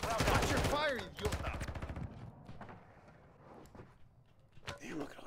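Rapid Warzone 2.0 gunfire crackles as short bursts around loud, excited talk, with a few scattered shots continuing more faintly in the background.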